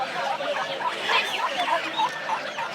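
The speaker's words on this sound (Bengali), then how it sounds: "রাজহাঁসের মোটামুটি বড় সাইজের বাচ্চা।" Large goose goslings at a Sunday livestock market in Sonargaon call in a run of short, repeated honking cries over a steady crowd murmur, fairly close and continuous.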